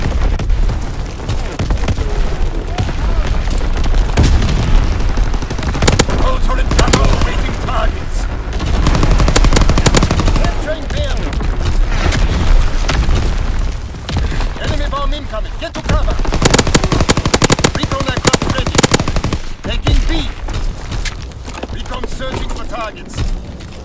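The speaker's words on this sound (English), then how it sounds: "Incoming enemy artillery. Get to cover." Dense, unbroken gunfire and rapid bursts mixed with repeated booming artillery blasts in a WW2 shooter game, loud and chaotic throughout with few pauses.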